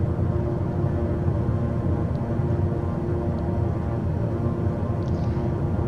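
In the Microsoft Flight Simulator 2020 game, a heavily loaded King Air 350 climbs after takeoff, its turboprop engines giving a steady, loud low drone with a faint tonal hum throughout.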